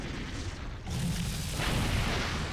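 Disruptor turrets firing during an arena fight in the video game Star Trek Online: a dense, loud, continuous roar of booming blasts that swells after the first second and keeps rumbling without pause.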